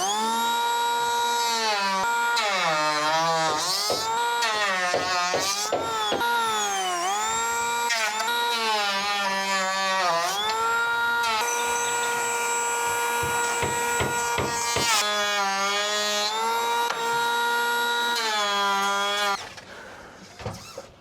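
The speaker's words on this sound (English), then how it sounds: "just using my planer" Power planer shaving wooden rafter tails on a tiny house build, a loud continuous whining motor with pitch sweeps as it bites and passes along the wood, close and sustained before cutting off.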